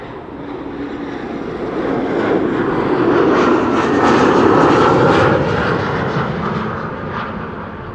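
A KLM airliner arriving at Amsterdam Schiphol Airport, a jet roar swelling loudly as it passes close overhead and then easing off, broadband engine noise with whining overtones, no speech.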